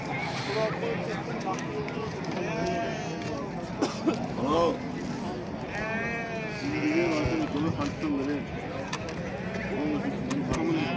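A flock of sheep bleats repeatedly at varying distances at a livestock market in Batken, wavering calls overlapping with constant chatter and crowd noise.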